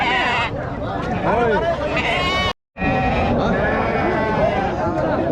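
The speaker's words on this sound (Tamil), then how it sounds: "குட்டி ஆடுங்கள்." Young goat kids bleat repeatedly at a busy goat market in Krishnagiri district, with people talking throughout, and the sound cuts out briefly midway.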